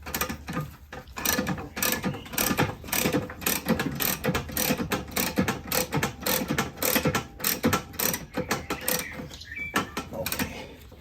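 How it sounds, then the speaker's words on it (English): A motorcycle lift raises a Harley-Davidson Softail Sport Glide in a workshop, giving a steady series of rhythmic ratcheting clicks and mechanical clunks, close and moderately loud, with no talk. "now we will lift the bike a little bit to get more room"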